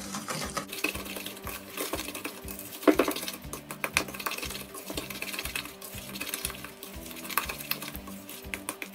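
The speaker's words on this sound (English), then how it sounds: "So now that I can see that sugar is mixing, I'm going to give it more vigorous mix." Butter and sugar are beaten hard in a bowl by hand for melting moments, giving a steady run of quick scraping clinks and taps that stay fairly quiet and close, with no voices.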